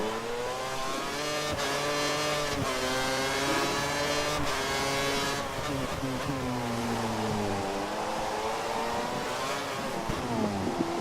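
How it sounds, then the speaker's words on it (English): Formula 1 race car in the F1 2013 video game spinning out at Singapore: a loud, sustained high-revving engine whine that dips and swoops in pitch, with shifting engine notes overlapping throughout. "Oh, it sounds like Vettel spun."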